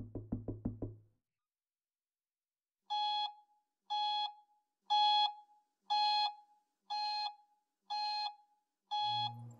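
In the game Monstrosity, a quick burst of knocks gives way to a steady run of seven electronic alarm beeps, evenly spaced about a second apart, clear and alone with no talk.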